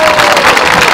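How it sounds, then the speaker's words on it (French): A crowd at a political gathering in solidarity with hostages, applauding warmly with a dense, steady, loud wash of clapping that fills the whole moment. "je vous demande d'ailleurs de les applaudir très chaleureusement"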